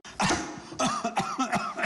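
A close, harsh cough followed by a quick series of smaller coughs, loud and raspy, with no speech.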